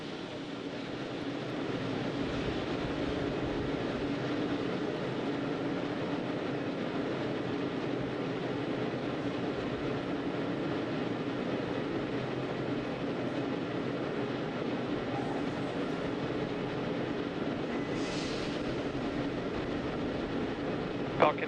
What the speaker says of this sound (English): Call out to our crew there that loud venting is expected.